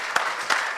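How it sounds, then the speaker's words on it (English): Brief applause from a conference audience at a surgical society meeting in Kenya, steady clapping with a couple of sharper individual claps standing out over under a second. "Let's give him a round of applause."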